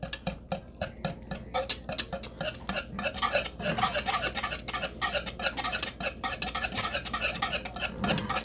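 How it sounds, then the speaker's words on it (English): A wire whisk scrapes and clicks rapidly against a pot while stirring homemade Alfredo sauce, a close, busy rhythmic tapping that runs throughout with no talking. "then you take the wire whisk here, because you always use a wire whisk"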